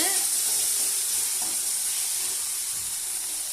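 Tomatoes sautéing in a pan, a steady bright sizzling hiss that runs throughout at moderate loudness with faint stirring underneath and no talking.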